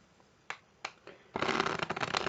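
A deck of playing cards is handled for a strip-cut false shuffle, a few isolated taps and snaps followed by a rapid, close, crackling riffle of cards.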